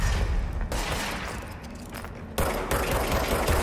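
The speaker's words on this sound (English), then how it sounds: "we got more shooting at us" Enemies in Control lay down a continuous, dense fusillade of close, loud gunfire that swells again near the end.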